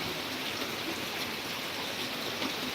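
Heavy rain pours steadily and evenly on surfaces, a dense continuous hiss heard alone at moderate level.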